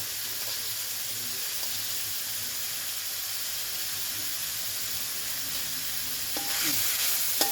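Pork and Thai holy basil stir-fry sizzling steadily in a hot pan, with a fried egg as part of the dish; a continuous loud frying hiss, a few utensil scrapes and clinks, and the sizzle swelling near the end.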